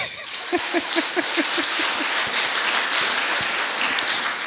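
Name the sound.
audience applause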